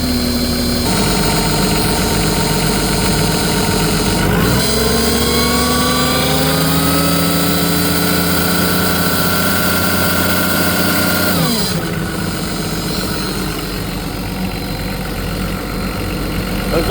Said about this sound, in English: next I'll run the RPM up in the engine so it sees the most pressure